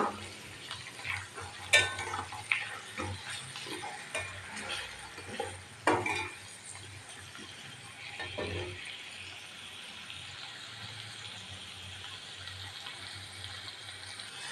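Turmeric water and salt poured into a pan of frying raisins give soft stirring scrapes and splashes, then settle into a quiet, steady low sizzle.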